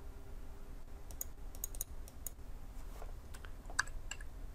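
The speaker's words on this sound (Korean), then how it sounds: "더블 클릭" Computer mouse buttons clicking on a desk during work in Autodesk Inventor software, with light scattered clicks and a couple of quick double taps, close and quiet, no talking.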